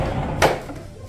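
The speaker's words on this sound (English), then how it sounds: "you could close the door right there" A door in a Disney All Star Sports Resort hotel room closes with a single short thud and click at close range, set against quiet room tone.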